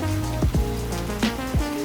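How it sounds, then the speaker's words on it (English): Heavy rain pours down steadily in Singapore, a dense, continuous wash of sound with a few low rumbling swells passing through, fairly loud and with no voices. "the rain started pouring down"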